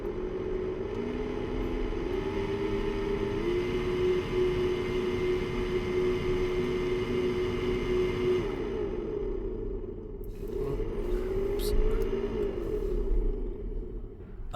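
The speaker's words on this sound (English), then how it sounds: "The blower motor. It sounds kind of funny." The worn blower motor fan inside a 2016-2020 Hyundai Elantra with 83,000 miles hums and whines steadily up close, its pitch shifting as the fan speed changes, dropping briefly near the end before spinning back up.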